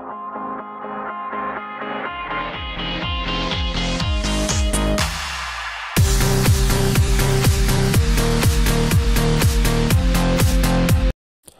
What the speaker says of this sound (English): making sure that the beats of one song match to the beats of another song, such that we can nicely blend between those songs